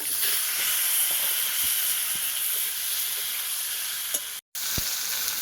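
Potatoes and raw mango sizzle hard in hot oil, a loud, continuous hiss close up with occasional small pops and stirring clicks and a very brief dropout near the end.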